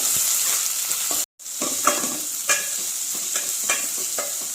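Curry leaves and chopped big onions sautéing in hot oil in a pan, a loud steady sizzle broken by a brief silent gap and regular scraping stirs of a spoon against the pan.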